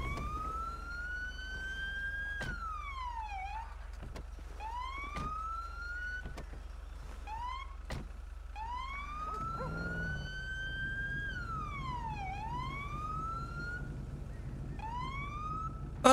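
Police siren on a vehicle in GTA V wails steadily, rising and falling in long sweeping cycles, continuous and moderately loud throughout with no talk.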